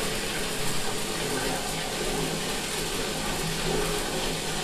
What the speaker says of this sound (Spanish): Ponemos la tubería a sacar agua, cambiaremos al telefonillo de ducha y comprobamos la temperatura